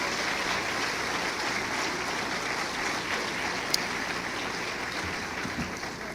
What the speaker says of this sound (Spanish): denle un aplauso a los adolescentes, a los chavos.